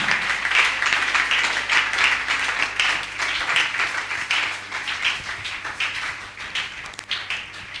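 A church congregation standing at a Sunday service applauds with sustained, dense clapping from many hands that rises and falls in waves for several seconds, fairly close and with no talk over it.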